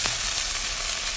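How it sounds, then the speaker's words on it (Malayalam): Moringa leaves drop into a hot pan of fried mustard seeds, grated coconut and oil, setting off a brief, loud, close crackling sizzle that holds steady for about a second. "ഈ മുരിങ്ങൻ്റെ ഇല ഇട്ട് വെക്കുക."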